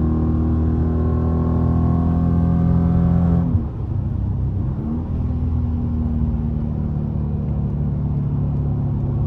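Car engine droning steadily from inside the cabin while driving, with a tonal whine that drops abruptly as a gear shift occurs, then a lower, even rumble continuing with road noise.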